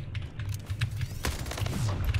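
SMG gunfire in the video game Splitgate, rapid bursts of automatic fire crackling close and loud over a low game drone, with quick mechanical clicks between shots and no voices.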